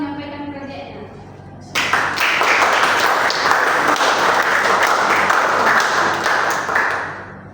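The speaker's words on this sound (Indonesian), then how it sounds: "Berikan tepuk tangan yang meriah kepada audiens dan seluruh tim proyek yang telah menyampaikan proyeknya" An audience in a school project presentation room breaks into loud, sustained applause after a spoken announcement, the clapping steady for several seconds before tapering off.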